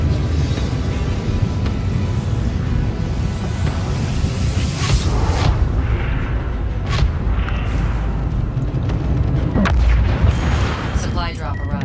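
Seeking missiles exploding during space combat in the video game Void Crew, a dense run of booms and blasts filling the whole stretch, with sharper bursts standing out midway and near the end over a constant roar.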